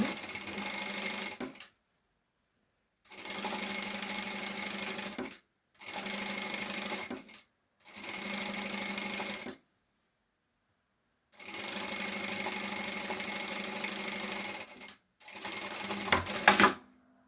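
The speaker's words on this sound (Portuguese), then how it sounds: "E eu vou prespontar já, para vocês perceberem, vou fazer já o presponto aqui." A sewing machine topstitches a shoulder bag seam in several sustained bursts of rapid, steady mechanical whirring, close up, separated by short pauses, with no talking.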